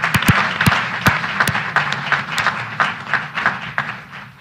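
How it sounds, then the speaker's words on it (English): Applause fills the room at a House committee field hearing, with sharp individual claps standing out through a steady crowd clatter that continues for several seconds. "So let's give them a round of applause."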